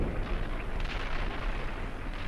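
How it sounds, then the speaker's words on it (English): Artillery fire in a military combat video game, a continuous rumbling roar of distant shelling with dull booms blending together, steady and loud throughout. "We are under artillery."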